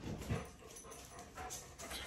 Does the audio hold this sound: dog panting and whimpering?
yes